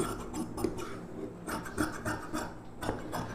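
Scissors snip through blouse fabric while a necklace-neck embroidered blouse is cut out, making a rough, papery rasp in several short, close strokes with brief pauses between them.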